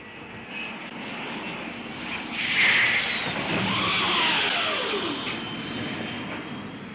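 Airplane descending toward a runway for landing, a sustained engine roar that swells and shifts in pitch as it passes close by, loud and steady without talking.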